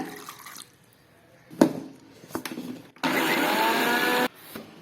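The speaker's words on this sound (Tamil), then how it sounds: "இப்போ தண்ணி சேர்த்து அரைச்சிக்கலாங்க." Water pours and sloshes with a few clunks, then a blender grinding amla and curry leaves with water roars loudly for over a second before stopping abruptly.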